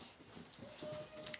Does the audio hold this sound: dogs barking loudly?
yes